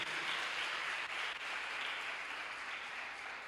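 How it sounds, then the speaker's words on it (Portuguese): A congregation at a church youth gathering applauds in a dense, sustained wash of clapping that holds steady throughout and eases only slightly toward the end. "Pode aplaudir Jesus."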